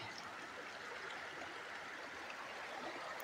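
A loud river rushing at a river mouth, heard as a steady, continuous wash of flowing water that sounds fairly distant and soft, with no voices.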